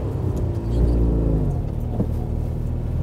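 A Citroën 2CV engine strains flat out, giving a loud, steady droning rumble heard from inside the small car with no talk over it.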